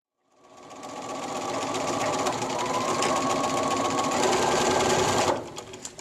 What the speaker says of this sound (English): Now we've sewn down this whole edge.